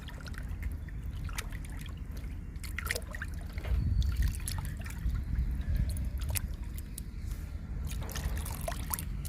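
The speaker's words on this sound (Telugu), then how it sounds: "బాగా కలుపుకోవాలి చక్కగా తయారవ్వాలండి లిక్విడ్" Homemade liquid plant fertilizer made with papaya, stirred in a container, giving soft continuous sloshing and trickling with a few splashier swirls near the middle, faint and close.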